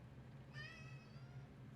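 A single short, quiet cat meow rises briefly over a low steady indoor hum, with no voices.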